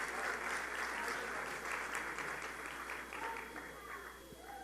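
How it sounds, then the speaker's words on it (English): An audience at the opening ceremony of the 7th World Zoroastrian Youth Congress applauds dancers after a cheerful dance, with sustained crowd clapping that fills the hall and softens toward the end, and some faint voices underneath. "please give them another round of applause."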